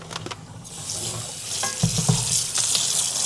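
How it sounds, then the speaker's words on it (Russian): Onions sizzle in a hot pan while a utensil scrapes and stirs them, with a few clinks, heard up close. "Немножко надо перемешать лук"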